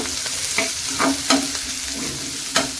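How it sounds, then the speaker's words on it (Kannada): Onion fries in oil in a pan with a close, steady sizzle, punctuated by several sharp scraping clicks as the spatula stirs it. "ಇದನ್ನೀಗ ಎಣ್ಣೆ ನಾವು ಫ್ರೈ ಮಾಡ್ಕೋಬೇಕಾಗತ್ತೆ ಚೆನ್ನಾಗಿ ಕೆಂಪಾಗೋ ರೀತಿ ಇಲ್ಲಿ ನಾವು ಫ್ರೈ ಮಾಡಬೇಕು"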